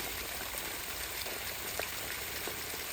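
Water gushes steadily from a borewell pipe on a village farm, a continuous broadband splashing rush that stays even and fairly close throughout with no voices.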